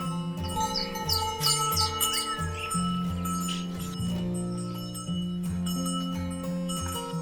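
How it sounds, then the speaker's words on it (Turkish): Birds chirp and tweet in a Turkish village setting near cattle, bright calls in the first seconds over a sustained musical drone and occasional bell-like clinks. "Kuşlar da cıvıl cıvıl maşallah."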